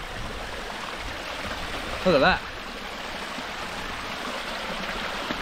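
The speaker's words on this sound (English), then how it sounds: "That's the side of that big ass waterfall." Robin Falls, a big waterfall feeding a pool, gives a steady, even wash of rushing water throughout, while a person speaks briefly over it partway through.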